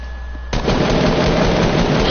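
Gunfire in a shooter video game, a sudden loud burst after a quiet start that becomes continuous dense, booming shooting filling the rest of the moment.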